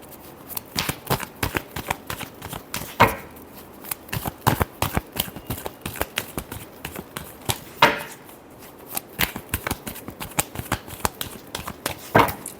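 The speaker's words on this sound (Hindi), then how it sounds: "Last shuffle." A deck of tarot cards shuffled by hand in quick, rhythmic riffles and flaps, close and crisp, with a few sharper snaps between bursts.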